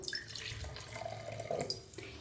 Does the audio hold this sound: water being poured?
yes